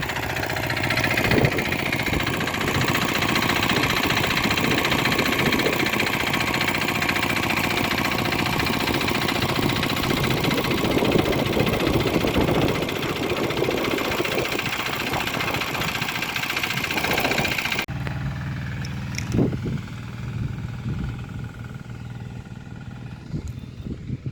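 A T-150 tractor engine runs steadily and loudly at close range for most of the stretch, then drops to a quieter, lower idle near the end, with no talk over it.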